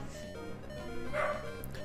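Dogs barking and yipping faintly in the background of a room during a Pokémon Emerald game session, with short repeated yelps over quiet game sound.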